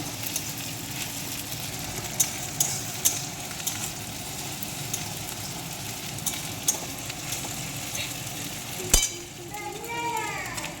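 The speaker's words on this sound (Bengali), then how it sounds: "এরপর জিরে বাটাটা দেবো খানিক ভেজে নেবো" Cumin paste fries in oil in a pan, a steady close sizzle with occasional spatula clicks and scrapes, a voice talking faintly alongside.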